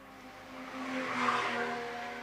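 A Porsche Cayman S, mid-engined, pulls out of a corner at the Shelsley Walsh hill climb, its engine note swelling steadily as the throttle opens, a sustained, moderately distant drone that peaks near the middle and holds.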